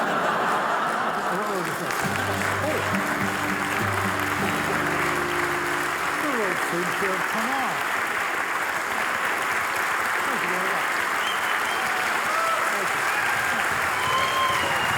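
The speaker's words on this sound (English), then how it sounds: "Give them a round of applause" Audience applause at a science comedy award show in a theatre, steady clapping throughout with scattered chuckles and a voice speaking over it.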